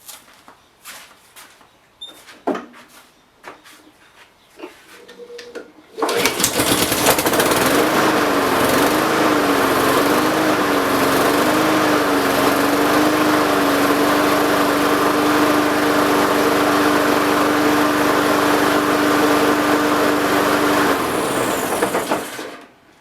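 Hard-starting Honda small engine: a few scattered handling clicks and knocks, then a pull of the starter and the engine catches, running loudly and steadily near by until it cuts off at the end.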